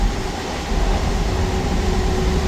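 A MEMU train runs between Vijayawada and Rajahmundry, a loud steady rumble and hum from inside the coach with a faint whine and no talking.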